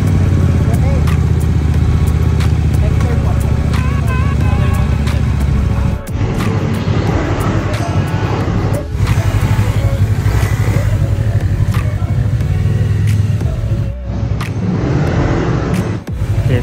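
An ADX 160 motorcycle on a test ride gives a continuous mid-range engine drone with steady road and wind noise and a few brief dips, while a rider talks over it throughout.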